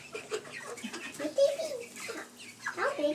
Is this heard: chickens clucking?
yes